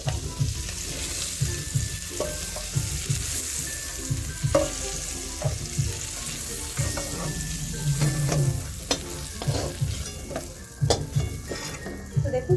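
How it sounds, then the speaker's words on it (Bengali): Prawns frying in hot oil in a pan for a Bengali lau shak and prawn dish, loud continuous sizzling with repeated scraping and clinking of a spatula as they are stirred, with no voices. "এখন চিংড়িগুলোকে তেলের মধ্যে দিয়ে নাড়িয়ে চাড়িয়ে খুব ভালোভাবে ভেজে নেব।"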